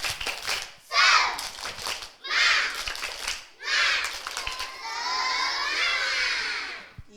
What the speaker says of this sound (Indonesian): Ayo kita bertepuk semangat dulu.